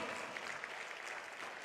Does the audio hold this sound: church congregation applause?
yes